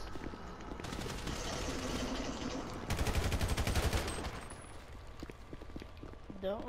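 Rapid automatic gunfire in GTA during a crew battle, with dense bursts of machine-gun shots, the heaviest volley in the middle, and voices talking at times.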